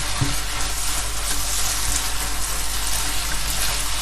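Grated carrot for carrot halwa is stirred in a non-stick pan, with a dense, steady sizzling hiss and occasional soft scrapes from the stirring, close and loud throughout.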